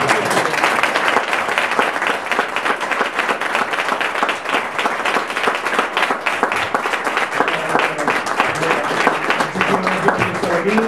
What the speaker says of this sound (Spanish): ruego un aplauso para la figura de Nino Bravo y todos los amigos